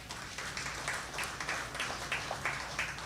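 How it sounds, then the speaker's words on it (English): Quiet, scattered clapping from an audience at an exhibition launch event honouring the calypsonian Lord Kitchener, soft and somewhat distant, rising in small bursts. "I think we should give Kitchener a round of applause."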